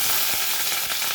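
Curry leaves hitting hot white oil with black mustard seeds in a kadai, a loud, dense, continuous sizzle close up, brief and without voices.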